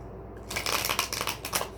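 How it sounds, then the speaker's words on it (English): A deck of tarot cards being shuffled close up, a quick papery riffle of rapid flicks lasting about a second and a half with no talk over it. "2 more shuffles."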